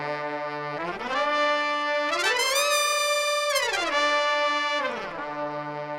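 Polyphonic legato from the 8Dio Bible of Salsa library as fingers slide up and down the keys: sustained chords glide smoothly upward, hold, then sweep back down, loud and continuous with no talking.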